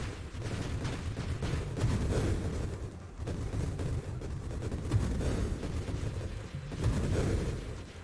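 Shotgun-style weapon firing in the space shooter Nova Drift, a dense stream of overlapping low booms and blasts rolling on continuously at moderate loudness with no talking.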